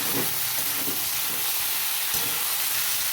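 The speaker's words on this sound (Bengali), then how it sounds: "এরপর আমি নাড়াচাড়া করে নেব এই দেখুন" Potato and yardlong bean fry with turmeric in a pan, a constant close hissing sizzle with soft scraping as the pieces are stirred.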